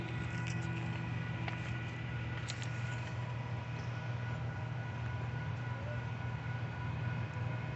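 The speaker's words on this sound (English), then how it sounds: "we got a southbound train coming this morning for UP" A southbound Union Pacific intermodal freight train, led by UP 5989 and UP 6215 with a mid-train DPU, rumbles past in a steady, continuous low roar with faint wheel squeals, heard from a little distance without talk.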